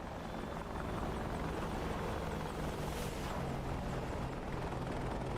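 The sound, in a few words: helicopter flying in DCS World video game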